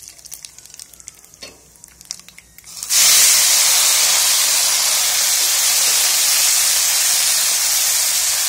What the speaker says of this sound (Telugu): ఇప్పుడు దీంట్లోకి ఈ ఫిల్టర్ చేసిన కాకరకాయని వేసేస్తున్నాం